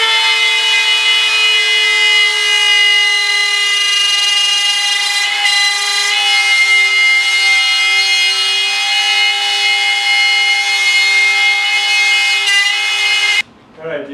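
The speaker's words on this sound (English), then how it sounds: "So I'm going to run a V-groove down it so far." A power tool cuts V-grooves along a wooden sword blade, making a loud, steady whine that holds for about thirteen seconds before it stops abruptly.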